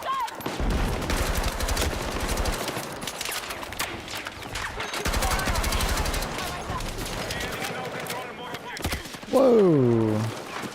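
Video game gunfire in a PP16 loadout session, bursts of automatic shots repeating through most of the stretch with a player talking over them, ending in a louder swelling effect.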